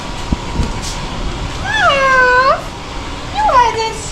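A kitten named Muffin gives two clear, drawn-out meows, the first longer and the second shorter, over a steady low background rumble with a few faint knocks.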